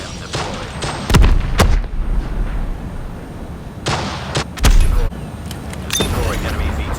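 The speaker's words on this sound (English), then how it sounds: "It has a dual explosive autocannon and a rocket barrage ability with a 5-second cooldown." A VTOL aircraft in Call of Duty Mobile fires its dual explosive autocannon and rocket barrage, loud booming blasts in irregular bursts over a constant rumbling background.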